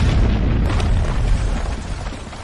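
An explosion in the action film Vanguard produces a deep, rumbling boom with a heavy low-end roar that sustains and slowly fades over a couple of seconds.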